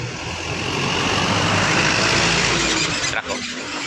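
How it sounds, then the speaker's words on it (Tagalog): Steady, loud road roar from a truck on a highway, heard from on board or close behind, with continuous engine and tire rumble and a brief dip near the end. "Kaya maingay guys, nandito tayo sa truck eh."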